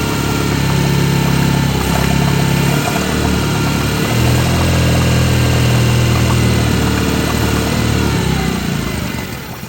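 A cold-blooded outboard motor idles while warming up, a loud, close, steady mechanical drone with a low vibrating hum that runs for about ten seconds without talk.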